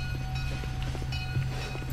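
Train rolling past in the Roblox Mad City video game, a steady low droning rumble with faint rhythmic clicks, close and continuous, under quiet background game sounds.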